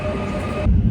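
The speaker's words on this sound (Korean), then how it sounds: "순천 여행을 마치고 기차를 탑니다" A Mugunghwa passenger train rolls along the rails, a steady, loud rumble heard from nearby with a dense rushing hiss, shifting to a heavier low rumble near the end.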